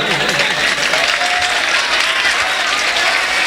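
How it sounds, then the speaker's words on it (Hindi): An audience at a mushaira in Kasoda applauds, a loud, dense, sustained wash of clapping that fills the whole stretch evenly. "आप हौसला बढ़ाने के लिए तालियां बजा रहे हैं"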